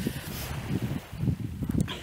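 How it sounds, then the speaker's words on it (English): Gusty wind buffets the microphone beside a caravan in uneven low rumbling bursts, rising and falling over a couple of seconds. "it's windy so I can't even talk"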